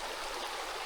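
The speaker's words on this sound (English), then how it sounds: "I have to cross Big Sinking Creek" Big Sinking Creek, running a little high after rain, flows in a steady, dense rush of water at close range, with no voices heard.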